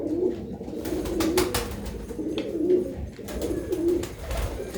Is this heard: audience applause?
no